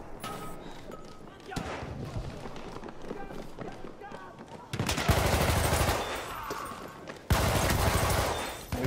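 Shotgun fire in Battlefield 1 team deathmatch, loud booming blasts over busy in-game noise, the heaviest bursts coming in the later half.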